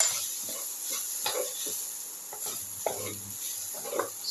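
An eggplant and potato mixture is stirred with salt in a pan. A steady sizzling hiss runs throughout, with scraping and stirring scuffs repeating at an uneven pace.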